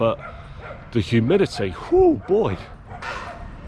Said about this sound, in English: I think it's a dog park here as well.